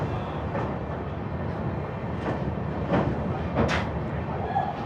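A Sairang Express train crosses the Kurung railway bridge high above a narrow river in fog, giving a steady, fairly loud rumble with a few sharper clanks rising above it.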